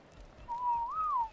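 A player's whistle command in the video game Ark: Survival Ascended, a single clear whistled tone that holds steady, then rises and falls briefly, heard alone over a quiet background.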